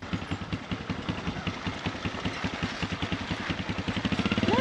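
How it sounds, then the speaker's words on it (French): A small moped engine putters steadily close by, its rapid even pulses building slightly in strength toward the end as it gets under way, with a faint rising whine at the very end. "on va prendre la moto et puis c'est parti"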